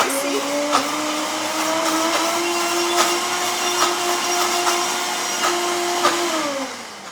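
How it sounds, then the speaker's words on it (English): Garden pesto ground in a blender, a steady loud motor whine running continuously for several seconds with small ticks and knocks, then winding down at the end. "while I'm grinding it up a bit"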